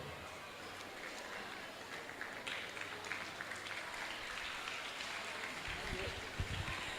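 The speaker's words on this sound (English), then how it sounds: "Please, let's give him a round of applause." An audience at an anniversary gathering applauds in a steady, dense wash of clapping that runs throughout, with voices talking underneath.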